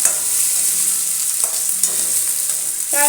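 Ginger, garlic and chopped carrot fry in a pan for pasta, giving a steady close sizzle with stirring scrapes and a brief clatter near the end.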